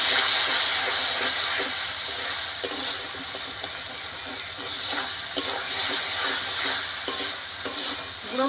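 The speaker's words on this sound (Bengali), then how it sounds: "গুঁড়ো মশলাগুলো দিয়ে বেশ ভালো করে আবার কষে নিয়েছি।" Ground spices with salt, chili powder and turmeric sizzle steadily in a pan while being stirred for a katla fish curry, a loud, constant frying hiss with occasional scraping taps of the spoon and no talking.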